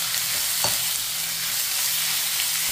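Pork belly (liempo) sautés in a hot pan for adobo sa gata, giving a steady, close frying sizzle with faint stirring scrapes, continuous and without talk.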